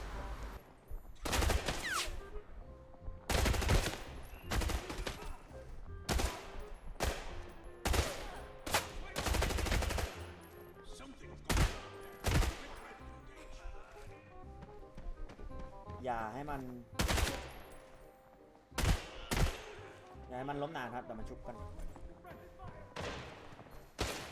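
Gunfire rings out in the shooter game Arena Breakout during a boss fight: bursts of rapid automatic fire and single shots with pauses between them, while someone talks over the shooting.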